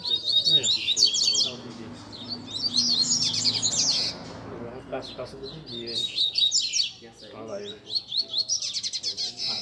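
Several double-collared seedeaters sing in bursts of bright, rapid chirps and trills, close and lively, with people talking in the background between phrases.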